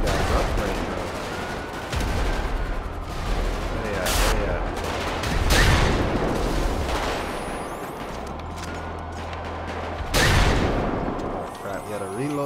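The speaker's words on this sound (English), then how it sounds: "We are freaking blowing these guys up right now." Gunfire and explosions in GTA 5 with an alien invasion mod, rapid weapon bursts and heavy booming blasts that roll on continuously, with louder blasts near the middle and later on, under excited talking.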